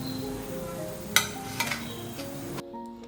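Bread pakora pieces dropped into hot oil, a steady sizzle broken by a few quick clinks from a utensil, ending abruptly.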